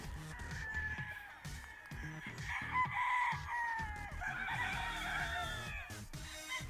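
Roosters on a gamefowl farm crow in long, overlapping calls, with clucking and scattered bird noise throughout.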